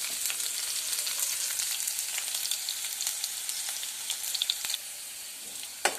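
Shallots fry in a pan for a jackfruit-seed curry, crackling in a constant close sizzle with sharper pops now and then and no voices.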